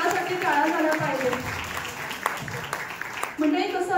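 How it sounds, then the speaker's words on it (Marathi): Guests applaud at a 25th wedding anniversary celebration, scattered clapping running under an emcee's continuous speech before the voice carries on alone. "जोरदार ह्या सक्सेसफुली 25 वर्षाच्या सोहळ्यासाठी टाळ्या झाल्या पाहिजे"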